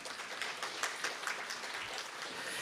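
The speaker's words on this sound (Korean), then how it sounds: "정상훈 교수님께 다시 한번 큰 박수 부탁드립니다" Faint applause from an audience at a city development forum in Namyangju, a soft steady patter of clapping heard from a distance for a few seconds.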